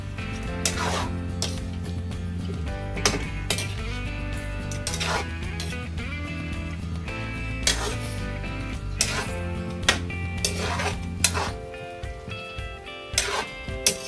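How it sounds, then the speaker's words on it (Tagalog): Adobo with pepper is stirred in a cooking pot, a spoon scraping and clinking against the metal in irregular strokes, heard close up under a steady background hum. "Then haluin natin."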